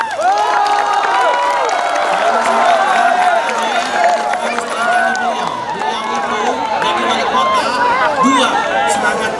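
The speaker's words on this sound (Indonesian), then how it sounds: "Tepuk tangan semua." Loud crowd at a school competition opening ceremony, with lively clapping and cheering mixed into a busy babble of many voices and shouts that stays dense throughout.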